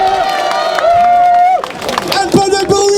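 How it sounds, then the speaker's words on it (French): A crowd at a Guinean demonstration in Belgium against a constitutional change claps and cheers loudly, with shouting voices and sustained horn-like tones layered over the noisy, close-up applause. "Alors applaudissez pour vous-même."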